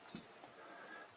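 A single quiet mouse click comes near the start of a short, otherwise hushed stretch, followed by faint background noise.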